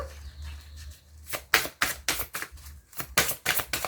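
Oracle cards being shuffled and drawn by hand, heard up close as a run of crisp, uneven slaps and riffles, with a quieter rustle at the start building to several sharp bursts.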